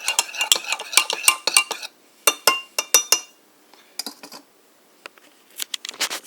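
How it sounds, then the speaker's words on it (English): A spoon clinks rapidly against the inside of a mug of hot chocolate in bursts of rhythmic stirring, separated by short pauses, close and crisp. "Then after that, you stir it up."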